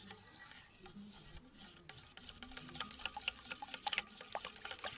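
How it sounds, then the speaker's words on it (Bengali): Curd beaten with a few ladles of warm milk gives a soft, quick run of light scraping and tapping strokes in a bowl, quiet and close, growing busier toward the end; nobody talks. "দুই হাতা দুধ আমি দিয়ে দেব এই দইয়ের মধ্যে এইবার এটাকে ভালোভাবে ফেটাতে থাকবো"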